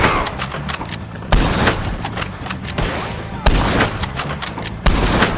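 Gunfire in the video game Red Dead Redemption II, a dense exchange of loud shots with several heavier booming blasts standing out at intervals during a chaotic shootout.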